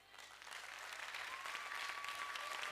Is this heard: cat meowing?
no